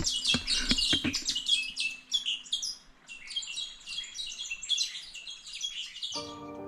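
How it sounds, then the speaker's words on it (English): Many wild birds chirping and calling in Tasmanian bush on the Lightning Plains, a dense, continuous chorus of overlapping tweets and trills, fairly close and lively, with a brief low buzzy sound at the end. "I don't know anything about birds or what type they are."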